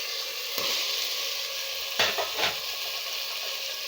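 Onions with mint and coriander leaves sizzling in oil in a pan for coconut milk rice, a steady close frying hiss with a few brief stirring clatters and scrapes.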